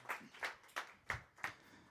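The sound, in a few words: audience applause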